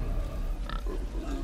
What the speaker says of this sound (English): Look, there's more pigs over there.